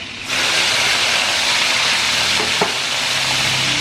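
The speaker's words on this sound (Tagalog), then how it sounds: "magigisa po tayo ng ating mga sangkap" Loud, steady sizzling of ingredients sautéing in a hot frying pan for a snakehead fish dish, a continuous hiss that starts abruptly and runs on, with a brief clink of a utensil.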